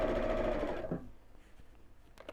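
A sewing machine runs fast and steady while stitching curved fabric edges, then stops abruptly, leaving a few faint clicks and handling noises, close by.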